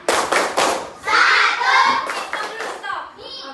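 A school class performs the Pancasila symbol clapping routine, with several quick rhythmic bursts of hand claps and thumps and children's voices mixed in.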